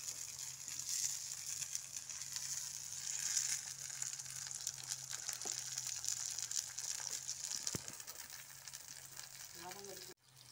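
Onion and tomato sauté in hot oil for a sundakkai kara kuzhambu, a soft steady sizzle with faint stirring scrapes, ending in a brief clatter.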